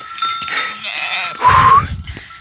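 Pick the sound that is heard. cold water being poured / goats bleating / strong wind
goats bleating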